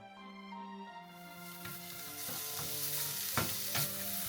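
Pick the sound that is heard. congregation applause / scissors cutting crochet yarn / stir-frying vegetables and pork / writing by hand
stir-frying vegetables and pork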